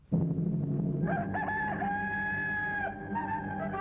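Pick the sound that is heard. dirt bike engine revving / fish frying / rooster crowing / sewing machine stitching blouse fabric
rooster crowing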